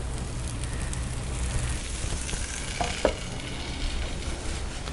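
Moong dal dosa fries in oil on a pan with a continuous close sizzle, steady and fairly loud, broken by a couple of faint ticks partway through.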